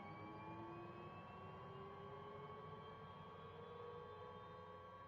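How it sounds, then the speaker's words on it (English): A steady engine drone with a rising whine, continuous and quiet, a synthetic MV-22 Osprey engine spooling up in Microsoft Flight Simulator 2024 on PS5, with no talking. "That's a normal helicopter soundtrack, so it sounds pants as well."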